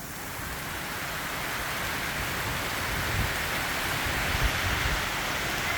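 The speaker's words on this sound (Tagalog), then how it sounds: "kasi maulan ho dito" Steady rain falling in Calamba, Laguna, a dense, even hiss of drops on surfaces that swells slightly and continues without a break, with no talking.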